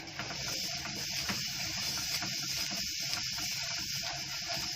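Coconut pieces and sesame seeds being stirred as they roast in a pan, a steady close sizzling hiss with faint scraping throughout, no talking.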